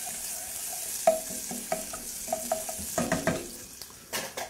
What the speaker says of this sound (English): you have to constantly be stirring because it does have a lot of sugar and stickiness going on in there